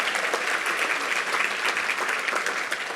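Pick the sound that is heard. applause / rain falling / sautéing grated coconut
applause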